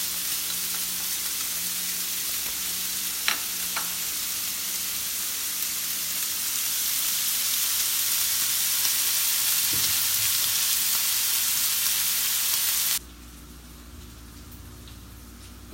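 Chopped onions and dried tomatoes fry in a pan for carbonara with a loud, steady sizzle and a few faint clinks, until the sizzle drops away abruptly near the end.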